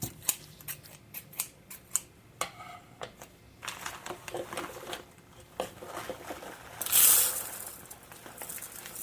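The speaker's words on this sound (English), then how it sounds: "My scissors" Scissors snip in a home kitchen while veggie sushi hand rolls are made, a series of close, crisp, quick cuts in short irregular bursts, with a brief louder rustle near the end and no talking.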